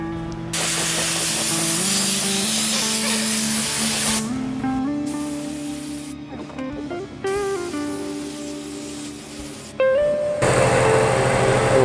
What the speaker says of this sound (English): I do have a mold release that I spray